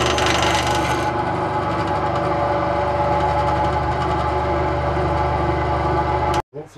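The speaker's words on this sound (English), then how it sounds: "it's going to be quicker to rip it down on the saw." A saw rips down a wooden tree fork being shaped into a slingshot, giving a steady, loud, continuous grinding rasp close by that cuts off abruptly near the end.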